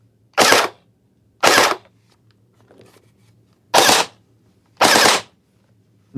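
A Faction Havoc gel blaster fires in short bursts: four loud, buzzing volleys, each about half a second long, two close together, then a gap and two more, heard up close without talk.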